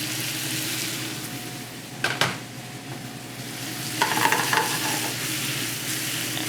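Onions for a quiche sweat in a pan, a soft steady sizzle close by, punctuated by a couple of brief utensil clatters and a louder stirring stretch near the end, without talk.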